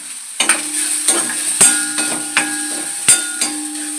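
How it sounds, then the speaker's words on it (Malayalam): Onions and green chillies sauté in a pan with salt for Kerala onion rice, giving a steady sizzle broken by several sharp scrapes and clinks of a spoon against the pan, close and fairly loud. "പച്ചമുളകിൻ്റെയും സ്വാദിന് നല്ലപോലെ ഒന്ന് സോട്ട് ചെയ്ത് കൊടുക്കണം"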